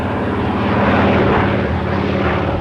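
An aircraft engine drones steadily in a loud, continuous roar with a propeller's rumble, filling the whole stretch without any voices.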